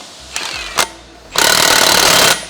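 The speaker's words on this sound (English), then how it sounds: "Now we can use our rattle gun." Pneumatic rattle gun tightening brake hub bolts on an Iveco 4x4, two brief bursts followed by a longer loud hammering run of about a second, close up in a workshop.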